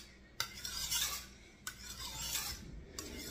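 A soft-steel Thai Moon knife pushed across a sharpening stone in three steady rasping strokes, each starting with a light click, close and quiet.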